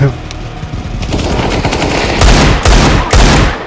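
Rapid automatic gunfire from Counter-Strike: Global Offensive, loud bursts of shots that grow denser and stronger toward the end, with sharp separate cracks near the close.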